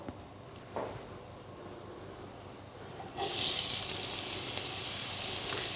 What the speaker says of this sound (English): it's just started to sizzle lightly there